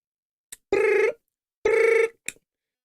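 A telephone rings in two long electronic bursts with a pause between them, loud and close, with short clicks before and after the rings and no voices.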